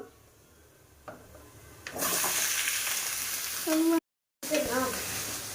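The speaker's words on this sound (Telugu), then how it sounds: "ఇప్పుడు మనం చికెన్ వేస్తున్నాం. 5 నిమిషాలు వేపుకోవాలి." Chicken pieces dropped into a pan with fried onions, a quiet start followed by a sudden loud steady sizzle with stirring scrapes, close by, broken by a brief cut and then a voice speaking over the frying.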